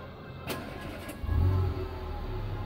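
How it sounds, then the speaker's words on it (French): A Bluetooth-controlled car's engine starts remotely: after a short click, a low rumble swells in and settles into a steady idle, fairly close. "Le véhicule démarre"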